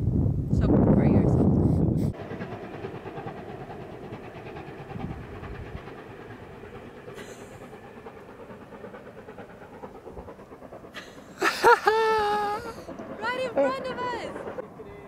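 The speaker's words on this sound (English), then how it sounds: "we heard a sound of a train" A train near a Scottish lake rumbles low and steady through the middle, faint and distant, while people talk over the start and the end.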